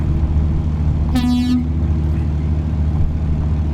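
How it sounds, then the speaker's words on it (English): A truck air horn in American Truck Simulator on an Australian outback map gives a single short blast over a steady low engine drone. "That's me air horn."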